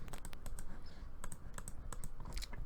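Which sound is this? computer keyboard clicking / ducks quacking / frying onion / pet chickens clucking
computer keyboard clicking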